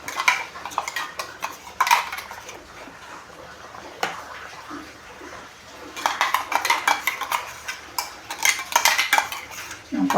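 Ground roasted coconut paste of coconut, chana dal, urad dal, rice and cumin being added to a pot of sambar, with repeated metal spoon scrapes and clinks against the vessel while stirring, close and busy.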